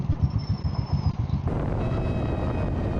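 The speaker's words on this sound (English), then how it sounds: "And I gotta say, the exhaust pipes on this bike sound so good." Yamaha V Star motorcycle exhaust throbs close by in low, uneven idle pulses, then settles into a steadier, smoother rumble, with no voices.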